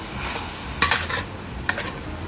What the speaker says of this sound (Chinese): 然后开火，让它搅拌均匀